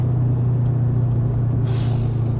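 Deep, steady exhaust rumble from an Audi RS5 with its mufflers deleted, heard from inside at a constant drone, with a brief hiss of wind or rustle near the end.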